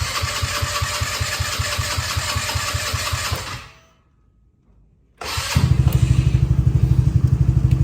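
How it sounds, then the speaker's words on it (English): A Trailmaster 200 go-kart engine runs with a steady, rapid putter, cuts out for about a second and a half of near silence, then restarts with a sudden loud catch and settles into a strong, even idle close by. "turn the key switch on, put your foot on the brake, and then turn the key switch to the start position"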